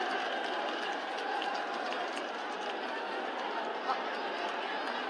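Audience applause at a public meeting with Prime Minister Narendra Modi in Rudrapur, Uttarakhand, a dense, steady wash of clapping from a large crowd that holds evenly throughout.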